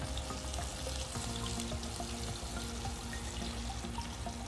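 Food fries in a Loco fryer, a dense, steady bubbling hiss with faint crackles, close and continuous without pause.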